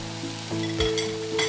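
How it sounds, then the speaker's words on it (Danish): Lean meat sizzling in a frying pan, a steady close crackle with a few louder spits and a stirring scrape, no voices. "Når du steger mært kød"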